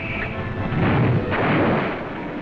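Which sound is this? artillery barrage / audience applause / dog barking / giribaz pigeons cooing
artillery barrage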